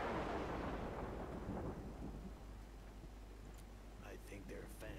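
Steady rain in the video game Road 96 hisses loudly at first, then eases into a softer background patter, with a low rumble beneath and brief chirpy sounds near the end.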